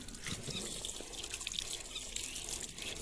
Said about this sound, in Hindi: तो इसमें सबसे पहले तो मैं पानी डालूंगी।